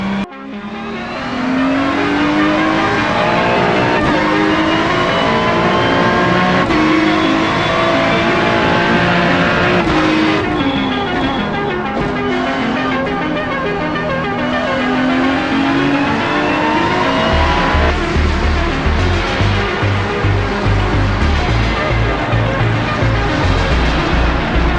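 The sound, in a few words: race cars racing in the iRacing video game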